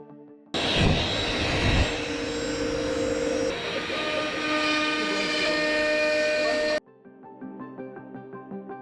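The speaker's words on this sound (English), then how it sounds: "The OutBack handles these cuts with ease." OutBack CNC router cutting a wood project with a kangaroo and triangle design, running as a steady loud whine with tonal harmonics for about six seconds before stopping abruptly, leaving quieter machine tones.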